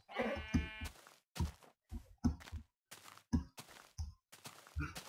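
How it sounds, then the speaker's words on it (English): Sheep bleat repeatedly in a blocky survival-island video game, a series of short, loud calls in quick bursts with brief gaps between them. "Sheep. Sheep, sheep, sheep."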